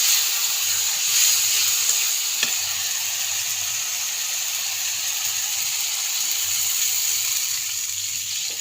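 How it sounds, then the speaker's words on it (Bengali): Water poured into a fried spice paste in a fish curry pan, a loud continuous hiss and sizzle that holds steady for several seconds, close up with no talking. "তো ওই যে আমার মশলাটা কষানো হয়ে গেছে সুন্দরভাবে, তখন একটু জল দিয়ে দিই।"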